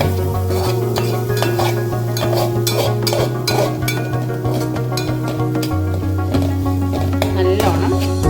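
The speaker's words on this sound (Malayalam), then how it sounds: "നല്ലോണം നമുക്ക് ഫ്രൈ ചെയ്തെടുക്കാം" Breadfruit masala with added tomato juice fries in a pan, a steady sizzle running under repeated stirring scrapes and light clinks of a utensil against metal, with a low steady hum throughout.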